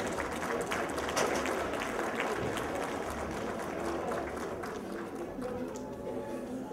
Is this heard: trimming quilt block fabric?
no